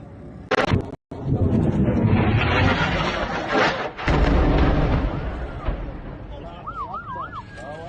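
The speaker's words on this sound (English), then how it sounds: "Steve Sweeney, these are more airstrikes in the ancient city of Tyre, close to the UNESCO World Heritage Site." Airstrike explosions hit the ancient city of Tyre, Lebanon, as loud, rolling blasts and rumbling booms that fill the clip, with a warbling siren rising near the end.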